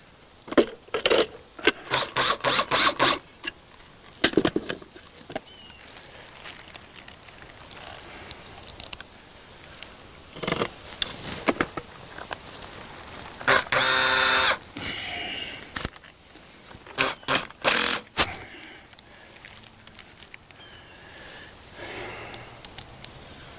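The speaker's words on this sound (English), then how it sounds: "now we can screw these together" Screws are driven in short whirring bursts to fasten plastic parts of a Mighty Mule MM462 gate opener, separated by pauses, handling clicks and rustles, close and moderately loud.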